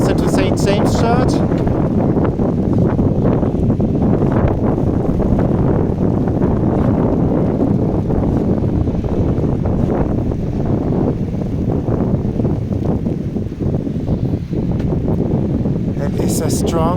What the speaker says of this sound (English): It's a strong wind, I have to be very carefully.